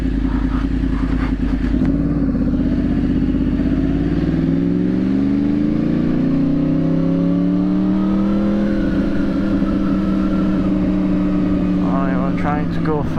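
A Yamaha R1 sport motorcycle ridden through city streets: a loud, close engine drone that rises steadily in pitch as it accelerates, then holds a high cruising note, with a brief rattle near the end.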